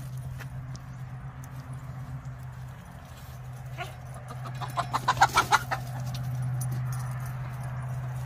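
Chickens being herded into their coop by a schnauzer give soft, low clucks that build into a burst of rapid, closer clucking. A steady low hum runs underneath.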